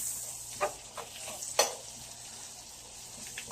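Garlic sizzles and crackles as it fries in a hot pan, a soft continuous hiss punctuated by a few sharper pops and stirring clinks, close and fairly quiet.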